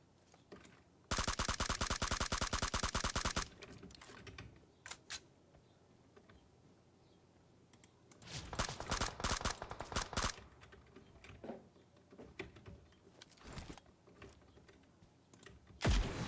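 Gunfire from a firefight in a video game: a dense automatic burst rattles off early, followed by scattered single shots, a second long volley, and more sporadic shots at a moderate distance.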